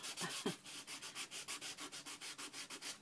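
Rhythmic back-and-forth rubbing of sandpaper used with art supplies, about a dozen even, steady scratchy strokes, close and fairly quiet, with no talking.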